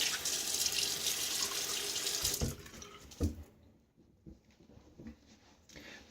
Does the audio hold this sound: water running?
yes